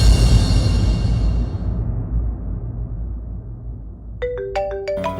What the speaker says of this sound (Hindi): पापा का फोन।